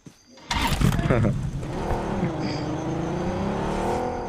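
A car engine in a video game revs loudly and steadily from about half a second in, its droning pitch rising and falling, with faint voices in the background.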